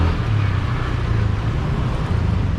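Road traffic rolls along a street in Pattaya, Thailand, a continuous low rumble of passing engines and tyres, fairly loud and close with slight swells as vehicles go by.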